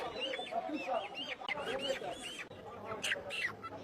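Chickens clucking and squawking close by as they are handled and put into a cage, several birds calling in short bursts throughout, with some rustling and handling noise mixed in.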